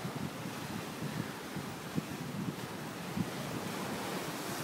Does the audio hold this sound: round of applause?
no